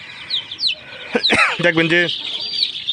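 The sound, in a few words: chickens clucking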